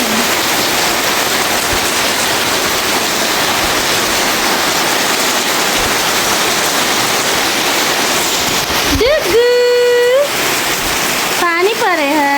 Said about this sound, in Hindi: देखिए कितने जोर से पानी पड़ रहा है